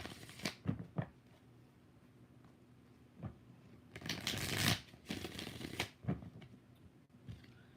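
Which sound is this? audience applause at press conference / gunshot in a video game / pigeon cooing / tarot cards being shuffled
tarot cards being shuffled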